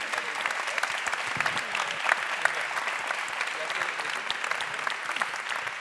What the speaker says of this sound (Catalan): acomiadar-vos amb un fort aplaudiment